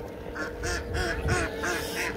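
Ducks at a park pond in Lancaster, California, give a run of about five loud, close quacks in steady rhythm over a low outdoor rumble, with no voices.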